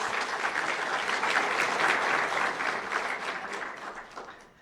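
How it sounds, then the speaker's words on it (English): An audience applauds, a dense steady clapping that holds for several seconds and then tapers off. "Let's give a round of applause to these folks."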